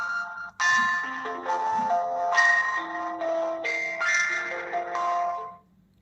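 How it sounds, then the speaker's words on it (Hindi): A Fire-Boltt Ring 3 smartwatch sounding its find-device alert: a short, bright electronic melody of stepped chiming tones lasting about five seconds, heard close and alone before cutting off. "वॉच वाइब्रेट करेगी और वॉच में साउंड भी प्ले होगा"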